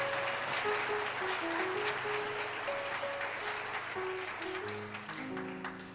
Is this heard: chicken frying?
no